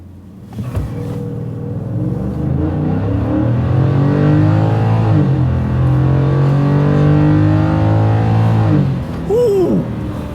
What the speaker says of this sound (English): I'm just gonna kind of step off the brake and give it some acceleration